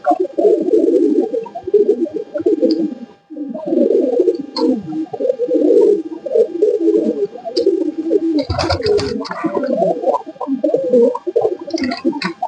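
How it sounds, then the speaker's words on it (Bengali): Sri Lankan pigeons coo close and loud in long, continuous rolling phrases, with only brief pauses and a short burst of wing flutter partway through. "এটাও শ্রীলঙ্কা পায়রা, খুব ভালো পায়রা।"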